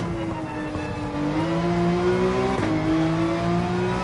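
Porsche 911 race car engine in Gran Turismo 7, a steady high revving drone that climbs in pitch, drops briefly at a gear change, then rises again, loud and continuous with no talk.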